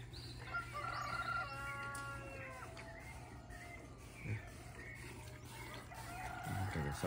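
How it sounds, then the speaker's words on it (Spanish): Roosters crow at dawn on a rural El Salvador farm where cows are milked by hand, several drawn-out calls overlapping early on and then scattered clucks, moderately distant over a steady low hum, with faint voices in the background. "Y puede escuchar el canto de las aves."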